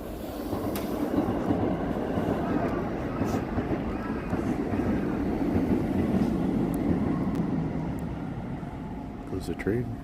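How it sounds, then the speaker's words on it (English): Train passing in Japan, a loud continuous rumble and clatter of rolling wagons with rising and falling intensity, and brief metallic squeals near the end. "Goes the train."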